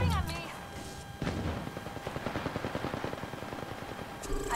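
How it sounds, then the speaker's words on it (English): Automatic gunfire in Apex Legends, a steady rapid string of close shots lasting several seconds after an opening burst of game sounds, fairly faint overall with a brief pause near the start. "They're shooting at me!"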